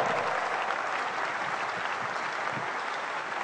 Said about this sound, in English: Clap some more for the Lord.